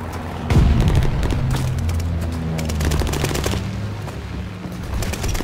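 Rapid automatic gunfire from a Call of Duty: Vanguard match, dense bursts of shots layered with booming impacts and rumbling battle noise, loud and continuous throughout.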